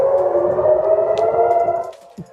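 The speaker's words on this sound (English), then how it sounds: "Those are air raid sirens ringing out across Israel overnight" Air raid sirens wail across Israel at night after a Houthi missile launch, a loud sustained rising-and-holding tone that drops off near the end, followed by faint brief sounds.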